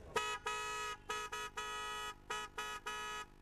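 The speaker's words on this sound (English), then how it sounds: "check all the varieties of automobile horns" High-decibel automobile horns honking in a series of blasts, some long and some short, at a shop checked in a raid over noise pollution, loud and close with no talking.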